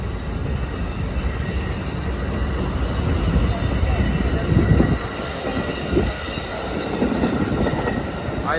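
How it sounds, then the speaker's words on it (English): Amtrak San Joaquin passenger train rolling through Emeryville station, a loud continuous rumble of railcars with wheel squeal and clickety-clack passing close by, no voices. "Alright folks, look at that train."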